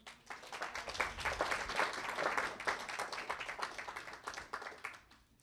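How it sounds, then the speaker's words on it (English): A bookstore audience at an author event claps for themselves, a lively crowd round of applause with individual hand claps audible, building quickly, holding for several seconds, then tapering off at the end. "why don't we give ourselves a round of applause?"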